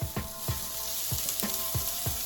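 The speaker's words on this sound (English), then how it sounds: "So I'm gonna saute that down." A small yellow onion sizzles and fries steadily in a hot pan, with a few soft stirring scrapes recurring at a loose rhythm over the continuous crackle, close and moderately loud with no talking.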